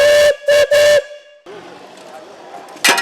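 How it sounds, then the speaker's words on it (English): A 1906 Russell steam traction engine sounds three loud, sharp whistle blasts, then steam hisses steadily before a final burst of sound. "That's a 1906 Russell steam engine, a traction engine. It's a steam tractor is what it is."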